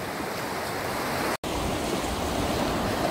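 Water of the Tajo river flowing steadily, a continuous close rushing wash with a very brief dropout partway through and no voices.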